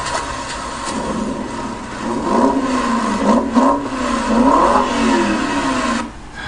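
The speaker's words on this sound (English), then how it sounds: "that's beautiful sound of a car revving" A car engine revs repeatedly, rising and falling in pitch over a steady mechanical drone, loud and close, with no talking.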